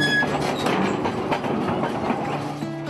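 A service wagon rolls along a narrow-gauge railway with a steady loud rumble and rattling clatter of wheels, close by and continuous, without talk.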